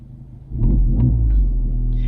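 A manual-transmission car's engine settles into a deep, steady rumble as it pulls away to drive off, loud and close with a throbbing low hum and no talking.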